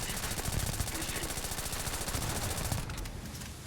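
Rapid automatic SMG fire from the video game Starfield, a dense, continuous rattle of shots lasting several seconds before tapering off at the end, loud and close with no talk over it.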